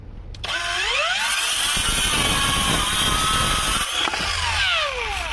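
A Ronix 8902 brushless circular saw spins up with a rising whine, then bites into 36 mm particleboard and cuts steadily for several seconds with a loud, gritty roar before winding down.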